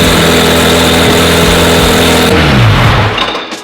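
A loud twin-turbo Honda NSX engine idling with a steady, throbbing rumble on its first start, then a brief rise and fall in revs before it tapers off near the end.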